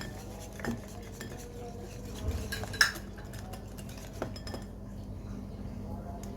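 A bowl of eggs with milk powder and sugar being whisked, giving scattered light clinks and scraping of a utensil against the bowl with one sharper knock midway, over a quiet background.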